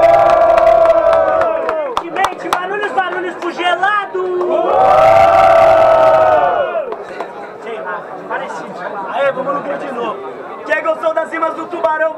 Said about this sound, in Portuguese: Quem gostou das rimas do tubarão faz muito barulho.